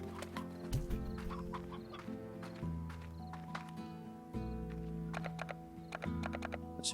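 Chicken clucking in the video game Slime Rancher, quiet game clucks and tones over a background music bed with scattered clicks and taps, no voices.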